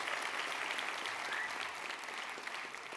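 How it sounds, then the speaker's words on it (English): Steady, dense applause from a large conference audience, a continuous wash of clapping at even loudness for the whole stretch, with no voices over it. "You should give yourself a round of applause."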